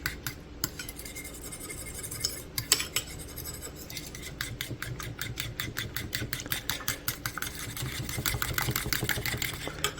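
Peanut butter French toast egg batter whisked with milk in a bowl, rapid rhythmic clinking and scraping of utensil against the bowl running steadily throughout, close and moderately loud, with a low motor-like hum underneath.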